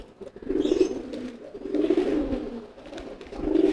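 A racing pigeon coos in soft, low, rolling phrases that repeat several times, close by and steady, with no speech over it.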